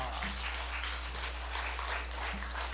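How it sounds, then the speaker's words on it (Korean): A church congregation claps steadily at a seminar, the sound dense but somewhat distant and low in level, with a constant low hum underneath. "박수!"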